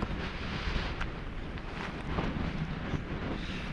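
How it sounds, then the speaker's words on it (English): Strong wind buffets the microphone beside a Scottish reservoir, a continuous loud roaring rush with gusty swells and no voices. "It's so windy, it's just coming straight off that."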